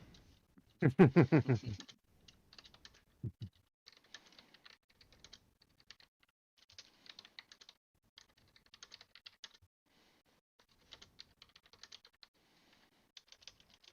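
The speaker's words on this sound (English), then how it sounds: "I'm typing something up for reference here to answer your question, Chris." Someone types on a computer keyboard, with sparse, irregular, quiet key clicks scattered across the stretch after a brief louder burst near the start.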